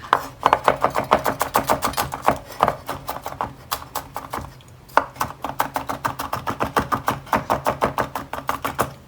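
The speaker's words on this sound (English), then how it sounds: "And the garlic, just kind of do a fine mince." Knife finely mincing garlic on a cutting board, rapid rhythmic chopping taps in quick bursts with a brief pause midway, close and alone.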